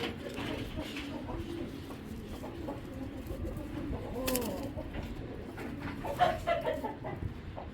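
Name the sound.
young male racing pigeon calling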